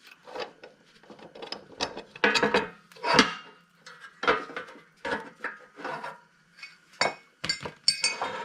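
A lawnmower blade nut is worked off by hand, producing scattered metallic clinks, scrapes and rattles in quick irregular bursts, close up, with no talking.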